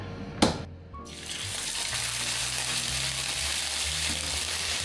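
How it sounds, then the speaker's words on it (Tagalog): Fish dropped into a hot pan, a brief clatter then a rising, steady bright sizzle of frying that holds evenly, with no voices. "iprito na natin yung isda"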